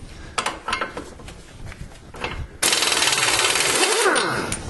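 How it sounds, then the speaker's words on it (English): A pneumatic impact gun rattles loudly and continuously against a car's wheel lug nut, a sharp hammering burst after a few quieter clanks, sustained close up for a couple of seconds. "that comes off pretty easy with the impact gun"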